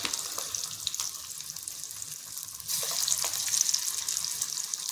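Beetroot kola balls drop into hot oil and fry with a steady bubbling sizzle, close and moderately loud, the hiss growing fuller partway through.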